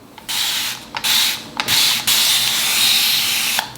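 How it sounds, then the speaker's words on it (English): A spray bottle hisses water onto hair in several close bursts, each a few tenths of a second to over a second long, with brief pauses between sprays. "I'm just gonna spray the hair down and get going."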